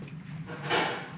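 Water from a cup is poured into the reservoir of an Avalon bottom-loading water cooler during rinsing, a brief splashing rush building near the end over a low steady hum.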